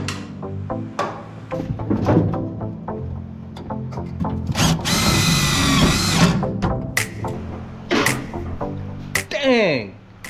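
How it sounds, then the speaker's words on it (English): A power drill whirs in short bursts and one longer run, driving self-tapping screws to mount a car gas pedal, close up with scattered clicks and some talk. "I'm gonna take this gas pedal and a couple self-tapping screws and just screw that into place for now"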